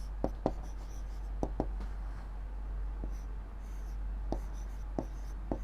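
A pen or pencil writing out a maths answer on paper, with sharp, sparse ticks and taps of strokes over a steady low hum, close and clear, with no talk.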